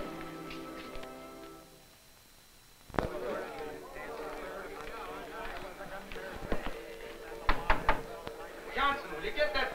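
Several sharp knocks rap on a door aboard a ship, a couple of isolated strikes followed later by a quick cluster of raps, with voices talking and background music throughout.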